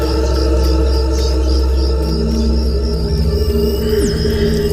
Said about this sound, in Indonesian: Hanya terdengar suara-suara jangkrik dan suara khas keheningan malam